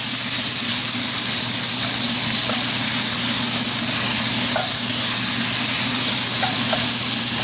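Food sweating in a hot cast iron pan gives a steady, even sizzle and hiss, close and fairly loud, with a few faint clicks, no voices.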